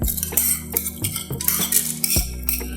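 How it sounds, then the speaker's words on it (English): Soaked rice scooped into a blender, with repeated scraping spoon clinks and soft wet thuds in an uneven rhythm, close by, with no talking. "I'll scoop my rice into the blender."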